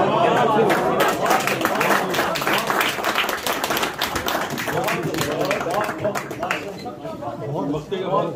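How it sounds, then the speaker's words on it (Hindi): Audience applause for poet Safina Saleem at an Urdu mushaira poetry evening, a dense, steady wash of many hands clapping that carries through the whole stretch and thins slightly toward the end, with crowd chatter mixed in. "बहुत ज़बरदस्त भरपूर तालियां सफीना सलीम के लिए"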